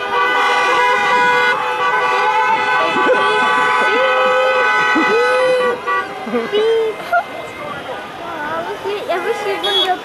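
Car horns honk repeatedly in a traffic jam, short and long toots overlapping a steady drone of many horns and engines, with people talking throughout.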